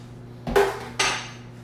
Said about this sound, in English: we're just going to make sure with the spatula that we get all of the sauce out of the container